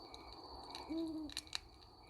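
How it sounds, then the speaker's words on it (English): An owl gives a single short hoot at night near a campfire, clear but modest in level against a quiet, steady background. "Our protector, our owl, hooting, keeping an eye out for us."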